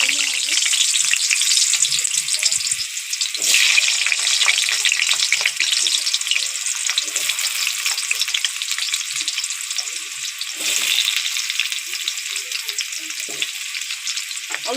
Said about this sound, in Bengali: তেলের মধ্যে এবার দিয়ে দেবো আলু কটা ভেজে খুব ভালো করে তুলে নেব